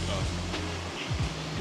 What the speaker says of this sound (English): As you can see, I have my own private waterfall.